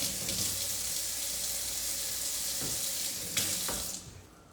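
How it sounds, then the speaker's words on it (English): Hands washed under a running kitchen tap while cooking, with close, steady water splashing and hissing. A few brief clatters come near the end, then the flow cuts off and fades. "Let me wash my hands."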